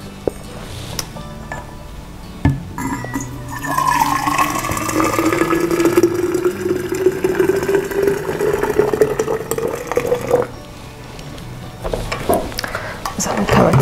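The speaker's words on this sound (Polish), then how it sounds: "Ok, nalewamy wody." Boiling water is poured into a 1.5-litre Quechua thermos flask, a steady close gurgling stream whose pitch rises as the flask fills, stopping abruptly after about ten seconds.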